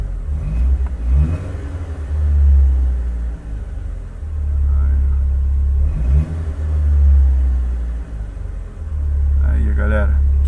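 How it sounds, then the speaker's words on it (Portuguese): A Fiat Palio G1 engine runs at idle without revving, giving a loud, steady low rumble throughout. Voices speak briefly over it now and then. "Então liga ele sem acelerar, sem dar muito giro, muita rotação."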